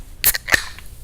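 A single beer can snaps open up close: a crisp tab click followed by a second sharp pop and a brief fizz, loud and isolated with no voices.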